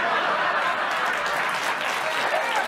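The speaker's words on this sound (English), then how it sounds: "that one got applause" Studio audience at a late-night comedy talk show bursts into steady applause after a crude joke, with a few chuckles mixed in; dense, even clapping fills the whole stretch at close range before cutting off abruptly.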